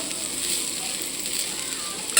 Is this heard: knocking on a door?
no